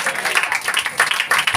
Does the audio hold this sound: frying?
no